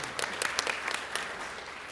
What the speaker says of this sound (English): We can clap for Jeff.